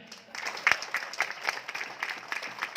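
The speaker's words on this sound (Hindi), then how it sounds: "हर एक पागल अपने लिए जोरदार ताली बजाएं" An audience claps and cheers in a sustained burst of applause, fairly loud and steady throughout.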